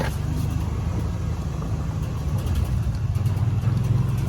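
A car or small utility vehicle driving on a food plot property, its steady mid-pitched engine drone running at an even level with slight revving fluctuations, close and unaccompanied by talk.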